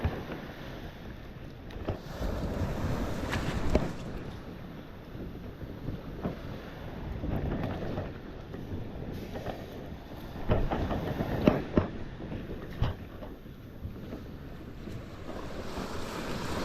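Ocean waves wash onto a beach at high tide, a steady broadband surge with louder breaking swells rising and falling, mixed with wind buffeting the microphone; no one speaks.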